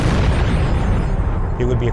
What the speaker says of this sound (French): Quand soudain, c'est l'explosion.